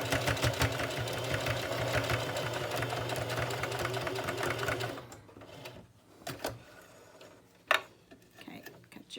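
A sewing machine runs a back stitch on a fabric face mask, a loud steady whirring hum for about five seconds, then stops and leaves faint handling noises.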